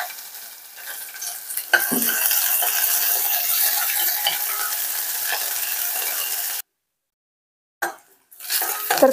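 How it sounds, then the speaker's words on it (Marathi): Onion goes into hot oil with crackling mustard seeds and curry leaves for masale bhat, setting off a loud, dense sizzle with stirring scrapes that runs for several seconds, then a brief silence before more sizzling and pan clatter. "मोहरी छान तडतडली की ह्यामध्ये कांदा घालून घ्यायचा आहे."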